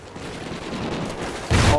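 Call of Duty Ghosts multiplayer gunfire comes as a short burst of rapid game shots, the rattle growing louder toward the end of a brief, dense stretch of noise.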